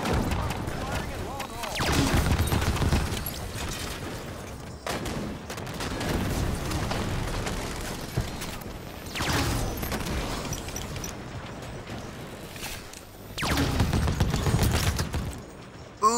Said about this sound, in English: Fire, this is a good weapon. Plasma caster, it's decent.